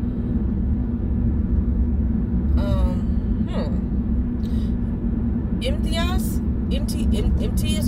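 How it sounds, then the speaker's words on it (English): Steady, loud road rumble from inside a moving car fills the whole stretch without a break, with a voice talking intermittently over the low engine and tyre drone. "I'm driving."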